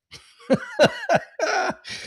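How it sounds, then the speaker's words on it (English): A run of five harsh, hacking coughs in quick succession, close to the microphone, ending with a breathy gasp. "As I cough and hack a little."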